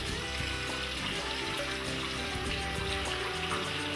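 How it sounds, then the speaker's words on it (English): Tap water runs steadily into a sink while soapy hands are rinsed under the stream, a continuous close splashing hiss with no speech. "rinse your hands thoroughly under running water to remove the soap"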